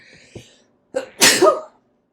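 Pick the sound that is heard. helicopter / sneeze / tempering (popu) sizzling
sneeze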